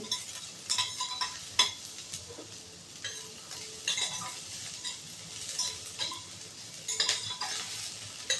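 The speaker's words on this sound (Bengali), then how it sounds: "দেখো বন্ধুরা, পেঁয়াজটা আমি ভাজছি।" Onions fry in a pan, crackling and sizzling steadily as a utensil stirs and scrapes them in repeated, uneven strokes, close up with no talk.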